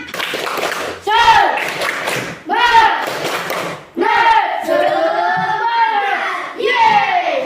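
A classroom of students performs a rhythmic spirit clap, bursts of loud clapping and shouted chanting voices in several phrases separated by brief pauses, close and energetic.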